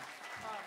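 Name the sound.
audience applause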